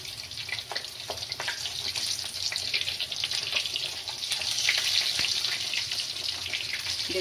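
Stuffed Bengali cholar dal puris deep-fry in hot oil, a dense, continuous bubbling hiss that stays loud and even throughout and swells slightly midway.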